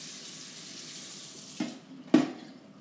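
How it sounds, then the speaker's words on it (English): A spoon is rinsed under a running kitchen tap: soft, steady water hiss, then two short clinks or splashes close together near the end. "Just gonna wash off the spoon."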